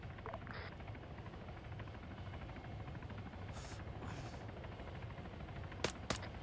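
A helicopter in Arma 3 drones steadily with a dense, low rotor thrum that fills the whole stretch, joined near the end by a few sharp cracks like distant gunfire.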